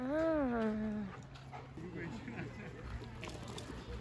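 A large dog whimpers at a campsite, giving a long, wavering, high-pitched whine that slides downward and then stops, followed by the quieter bustle of the outdoor setting with voices talking.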